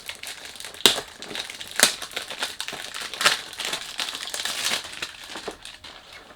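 Perfume box packaging crinkling and crushing during an unboxing of an Anfar Signature fragrance, with close, irregular rustles and a few sharper crackling bursts spread across the clip, no talk.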